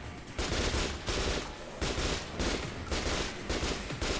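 Gunfire from the video game Metro Last Light comes as repeated loud bursts of rapid automatic fire, with about five short volleys separated by brief pauses.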